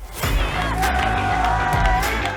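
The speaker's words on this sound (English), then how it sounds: "It was a raucous crowd and wildly pro-India." A packed crowd at a watch party for the India versus South Africa T20 Men's final cricket match cheers loudly and continuously, with shouts and whoops rising above a dense roar.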